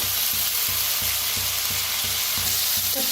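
Roasted radish pods (dingri) are stirred in a hot pan, with a loud continuous sizzle broken by regular scraping strokes about three times a second.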